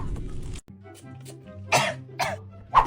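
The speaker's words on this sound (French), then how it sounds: "Tu tousses, ma chérie?" A young girl coughs indoors: a couple of short throat-clearing coughs, then three sharp, separate coughs spaced roughly half a second apart, each louder than the quiet background.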